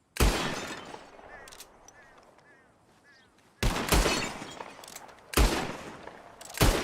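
Gunshots in the video game Red Dead Redemption 2 as bottles shatter in a shooting contest: one sharp loud blast opens, then two more loud shots with bright shattering bursts land later, with quieter game ambience and murmuring between them.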